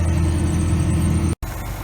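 A farm tractor idles close by during corn planting, a steady, dense rumble that cuts out for a split second and then carries on.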